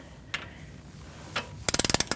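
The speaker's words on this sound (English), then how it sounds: "we're going to torque that to 115 foot-pounds" Torque wrench clicking while a control arm bolt on a 2008-2014 Mercedes-Benz C300 is tightened to 115 foot-pounds: a few isolated ticks, then a quick run of about eight sharp ratcheting clicks, close and fairly loud.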